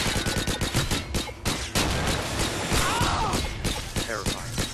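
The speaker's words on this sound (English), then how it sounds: "I shot a man in the skull." First-person shooter game gunfire crackles in rapid repeated shots, loud and close, with a brief sustained burst in the middle. Game voices and effects sound faintly underneath.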